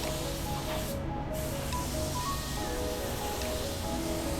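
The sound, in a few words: spray gun painting red paint on Honda Civic bumper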